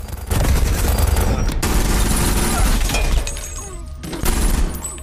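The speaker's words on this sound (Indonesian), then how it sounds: "Jacob berhasil mengambil senjata di bawah meja dan menembak Nathan dan akhirnya Nathan mati" Gunfire in an action film, a loud, dense burst of shots and crashing impacts that fills most of the moment, then eases briefly before another blast.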